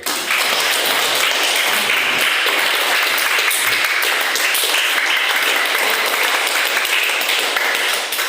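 Classroom applause for a student group during a teaching-practice lesson, steady dense clapping from many hands throughout, loud and sustained without a break.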